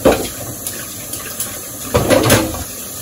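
Kitchen tap running over a sink while dishes are rinsed, a steady splashing wash with a few louder surges of water near the end, close by with no talking.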